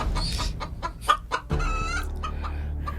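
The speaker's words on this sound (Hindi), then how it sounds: "मुर्गी का क्या सीन है भाई, कोई समझाओ" A hen clucks in a quick run of short, close calls with brief pauses, ending in a looser, drawn-out cackle; no one speaks.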